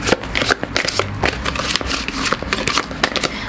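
Tarot cards shuffled by hand in a steady, busy run of riffling snaps and soft slaps, close and fairly loud, with no talk over it.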